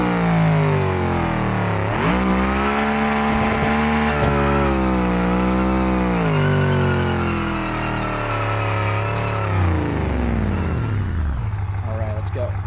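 A V8 engine with a six-speed manual transmission revs loudly in a driving video game, its pitch climbing and falling through several sweeps for about ten seconds before dropping to a low idle.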